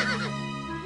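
Horses neigh in a Cinderella fairy-tale scene as mice turn into six white horses: a brief, bright whinny rises and falls in the first third of a second, with a quieter sustained tone trailing after, close and clear.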